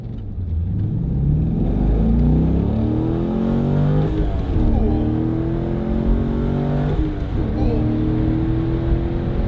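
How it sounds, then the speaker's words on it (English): Stock 2004 C5 Corvette accelerating, heard from inside the cabin: a loud, steady engine drone that climbs in pitch through the gears, with brief dips at the shifts and constant road rumble underneath. "here's an interior sound view of a C5 acceleration. This is stock."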